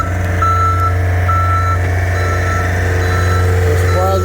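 A forklift unloading a truck at a dairy farm in South Georgia sounds steady, evenly spaced reversing beeps over a loud, constant engine drone, close by and without talk.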